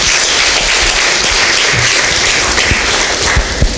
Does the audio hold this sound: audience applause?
yes